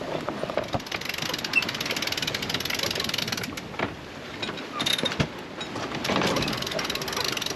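Sailboat mainsail being pulled in to the center line, heard as rapid ratcheting winch clicks and rattling line mechanisms over wind and water noise, with faint voices nearby.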